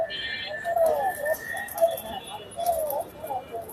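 Soft, repeated cooing of pigeons close by at the Kaptan Bazar pigeon market, several low rolling calls against a quiet background.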